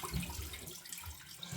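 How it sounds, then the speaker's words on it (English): Cold water running from a bathroom tap as a face is rinsed, a short close splashing wash of flowing water with no voice. "I'm going to rinse my face with cold water"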